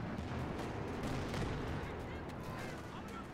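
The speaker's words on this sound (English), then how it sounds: "Wow, pretty butterfly bombs landing there." Explosive bombardment from butterfly bombs landing in the World War II strategy game Company of Heroes 2, a steady rumbling barrage of blasts and crackling detonations throughout, loud and dense, with a commentator's voice faintly under it.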